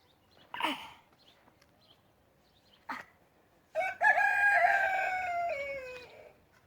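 A rooster crows loudly and at length, with a few sharp hen clucks just before it, close by.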